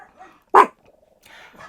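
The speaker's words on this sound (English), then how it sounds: "I hope you'll excuse the barking." A single sharp, high yap from a toy fox terrier nearby, loud and brief, surrounded by quieter sounds.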